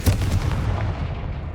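The Confringo blasting spell from Hogwarts Legacy: a single loud, booming fiery blast with a heavy low-end thump that rolls out and decays over about a second.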